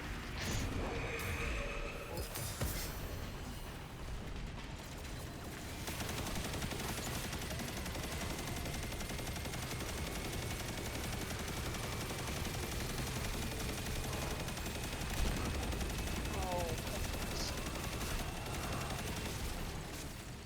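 Sustained automatic gunfire from a machine gun in a video game damage test, a dense, steady stream of shots that carries on for about twenty seconds with only brief dips and one sharper burst.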